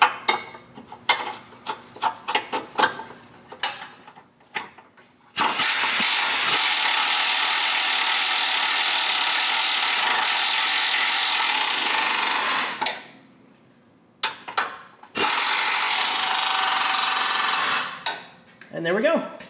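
A power tool drives bolts in on the driver's side during an automatic transmission installation, running in two long loud bursts with a short gap between them. Scattered tool clicks and clanks come before and after, with no speech.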